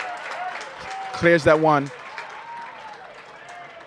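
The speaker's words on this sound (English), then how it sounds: "to the rapturous applause of the crowd." Stadium crowd at a women's college soccer match, North Carolina versus Cal, roars and applauds after a defensive clearance, a broad swell of cheering beneath a commentator's continuous talk, with a brief louder burst midway.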